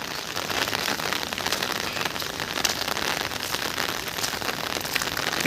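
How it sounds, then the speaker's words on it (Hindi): Steady rain pattering on a surface, a dense even hiss that continues throughout with no voices. "सकाळ सकाळ वर्षा"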